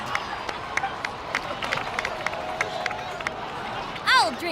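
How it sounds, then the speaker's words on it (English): A crowd in the video game Genshin Impact breaks into cheering and applause, a dense babble of clapping and raised voices under game music, with a brief rising tonal sound near the end. "So, please give another round of applause for them."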